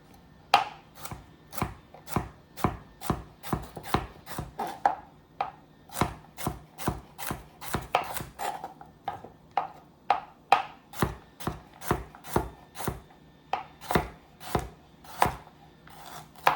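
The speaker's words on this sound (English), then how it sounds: "Get a nice fine dice on the carrots." Steady, rhythmic knife chops dicing carrots on a cutting board, close and crisp, repeating quickly for a long stretch with no talking.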